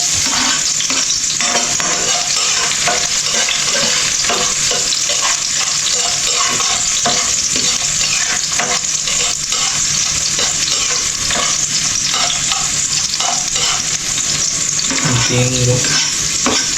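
Garlic fries in hot oil in a pan for pork adobo while it is stirred, making a loud, steady sizzle and hiss with scraping strokes all the way through, plus a brief clatter near the end.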